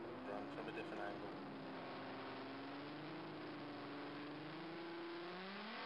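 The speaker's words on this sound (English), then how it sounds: "There you can see him lighting the tyres" A VW drag race car engine screams at a drag strip, with a rising and falling revving tone held at a distance as the car launches with wheelspin, steady and continuous with a faint rumble underneath.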